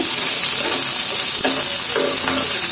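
Green chilies frying together with other ingredients in a pan, a loud continuous sizzle with occasional stirring scrapes, close up and without speech.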